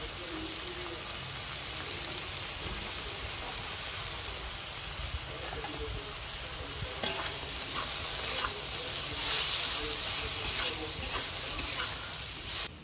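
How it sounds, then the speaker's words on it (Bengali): Small kechki fish frying with turmeric and salt while being stirred in the pan: a dense, continuous crackling hiss with occasional scraping, steady and near throughout, no talking. "হলুদ লবণ দিয়ে নাড়াচাড়া করে দিচ্ছি।"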